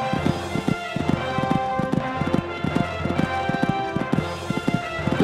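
Horse hooves drum in a steady, repeated clip-clop rhythm at a horse trials cross-country course, close and clear over a continuous tonal hum, with no talking.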